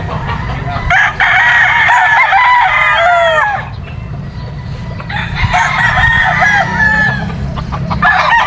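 Gamefowl roosters at a game farm crow loudly and close by, two long drawn-out crows a few seconds apart over a background of clucking and farmyard noise.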